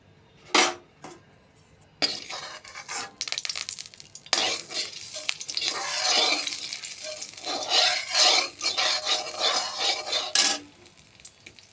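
A small amount of oil heats in a pan while cooking a pumpkin-stem and bori dish, with a soft sizzle under repeated spoon clinks and scrapes against the pan, close and fairly loud in bursts.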